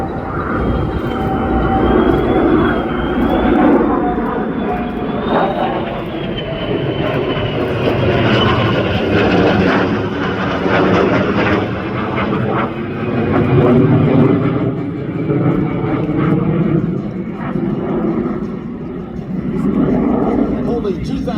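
An F-35A jet and a KC-46 tanker fly together during aerial refueling, giving a loud steady jet engine roar with a shifting whine that runs throughout, with a voice talking over it.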